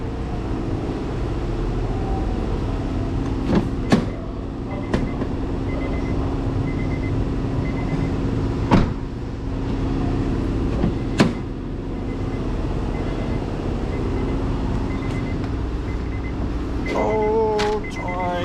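A Honda Fit with an erratic shifting fault runs with a steady, close engine drone, punctuated by a few sharp mechanical clicks and a brief whirring rise near the end.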